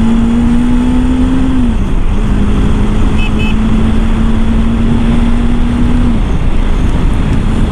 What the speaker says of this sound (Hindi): ये होता है फ्रेश इंजन ऑयल डलाने के बाद ये वाला रिफाइनमेंट आता है।